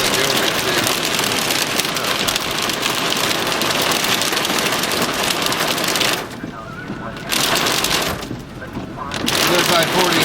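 Heavy rain and hail drumming on a vehicle during a tornado chase in west central Oklahoma, a loud continuous clatter that briefly drops off twice, with people talking over it.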